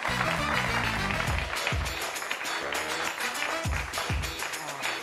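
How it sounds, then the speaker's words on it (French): A French TV studio audience claps loudly and continuously to welcome a guest, dense applause with backing music running underneath throughout. "C'est le moment de recevoir avec des applaudissements bien nourris mon désir, s'il vous plaît."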